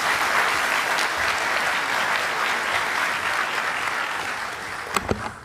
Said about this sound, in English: If we can please have a big round of applause,